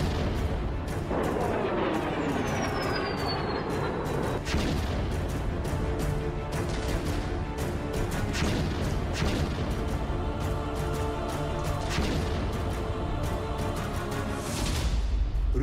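Heavy gunfire and shelling on a Russia-Ukraine front line during close-quarters fighting, with dense, continuous volleys of shots and booming blasts that run loud throughout, broken by sharper cracks and a brief descending whistle early on.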